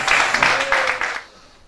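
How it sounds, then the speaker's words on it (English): An audience at an AGORA talk gives a short burst of steady clapping to welcome a speaker, Alexander Hristov, near and moderately loud, cutting off abruptly about a second and a half in. "a huge applause for Mr. Alexander Hristov!"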